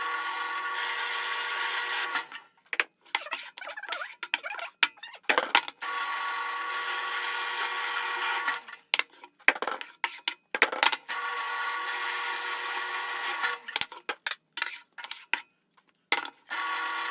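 A power drill with a Forstner bit whirs in repeated bursts, starting and stopping several times with short silent gaps between runs as it bores into wood.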